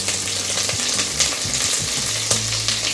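Cumin, ginger-garlic paste and curry leaves frying in hot oil for Maharashtrian shev bhaji, giving a steady, close, loud sizzle with occasional crackles and spatters and no talk.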